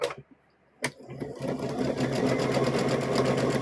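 Sewing machine back stitching fabric for a stuffed bear: a brief start and pause, then a sharp clunk and a steady fast mechanical whir running continuously up close.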